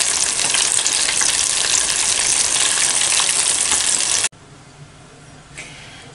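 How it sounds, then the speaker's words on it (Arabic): Chicken tenders frying in hot oil, a loud, dense, steady sizzle that cuts off abruptly partway through, leaving faint quiet kitchen noise. "أنا كملي القلي تاعي كامل"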